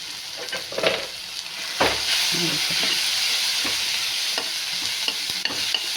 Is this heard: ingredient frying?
yes